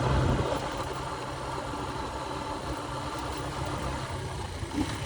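A motorcycle engine in rough condition hums at a low, steady pitch during a ride, fairly quiet and continuous with no talking.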